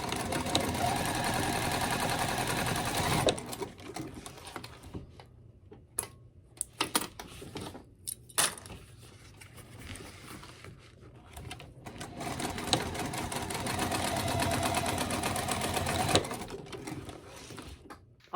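Sewing machine stitching a bag gusset for a crossbody bag, running in fast buzzing bursts with short pauses and clicks between them, close and fairly quiet.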